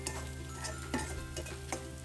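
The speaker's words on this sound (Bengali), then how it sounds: "পেঁয়াজ কুচিটা দিয়ে দিলাম। দিয়ে এখন 1 থেকে 2 মিনিট আমি নাড়াচাড়া দিয়ে নিব" Chopped onion stirred in a hot pan while frying for beef mula, a steady close sizzle broken by spoon scrapes and light clinks against the pan, with no talking.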